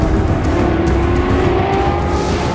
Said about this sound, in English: The GT40 is furiously fast.